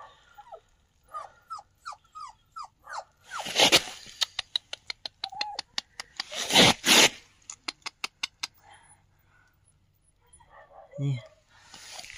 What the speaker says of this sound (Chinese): 小狗